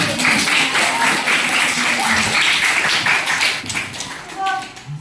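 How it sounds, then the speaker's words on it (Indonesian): Hands clapping together in a classroom during a junior high school lesson, a steady dense patter of claps filling the room for several seconds before thinning out, with a few voices mixed in. "Tepuk tangan dulu."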